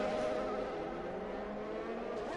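In the F1 2020 video game, a car at the Monaco Grand Prix has a revving glitch, giving a continuous high, buzzing, droning engine whine that holds steady and loud throughout without any pause.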